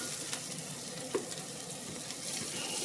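Onions caramelize in a hot cast iron pan with olive oil and butter, giving a steady, close sizzle and crackle with a soft scrape of stirring.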